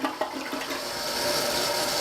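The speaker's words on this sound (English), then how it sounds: "So we're gonna give it a test flush" A newly installed toilet gets a test flush, a loud close rush of swirling water that starts abruptly and holds as a steady draining roar.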